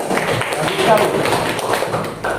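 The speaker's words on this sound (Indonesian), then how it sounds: "Tepuk tangan." Students in a classroom clapping together, a busy patter of quick hand claps and thuds filling the room, fairly loud and close, with voices mixed into the clapping.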